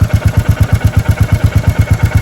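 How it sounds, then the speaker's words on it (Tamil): Royal Enfield Classic engine idling up close, with evenly spaced thumping beats about eight per second and a light tappet ticking riding over the steady loping rhythm. "வண்டி என்ஜின்லேருந்து டிக்கின்னு டேப்பட் நாய்ஸ் வரும்"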